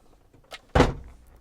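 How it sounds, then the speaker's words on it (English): A Toyota car door opening with a single firm latch clunk, preceded by a faint click, close and brief with quiet surroundings. "So now we have the door open."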